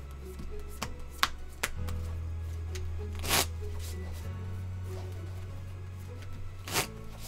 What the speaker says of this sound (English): I'm going to shuffle the deck and deal out a hand.